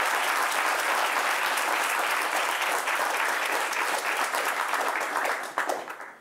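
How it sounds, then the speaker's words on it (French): A studio audience on a French talk show breaks into sustained applause, a thick even wash of clapping that holds steady before tapering off near the end. "Nous voulons vous transmettre nos encouragements par des applaudissements."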